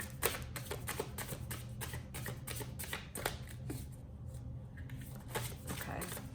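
A deck of tarot cards is shuffled close up in a steady run of rapid riffling and slapping card sounds, continuous and fairly loud, with only light background noise.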